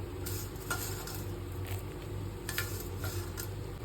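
Fenugreek seeds dropped into homemade hair oil heating in a pan give a steady, soft sizzle, with faint stirring scrapes and clinks throughout and no talking.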